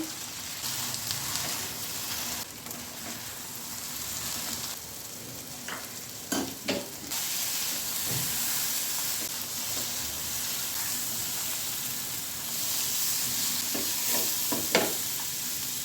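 Okra is stir-fried in a pan with green chili and lentils, producing a steady close sizzle broken by intermittent sharp stirring clatters and scrapes, with no talking.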